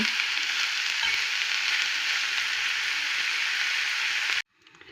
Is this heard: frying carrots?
yes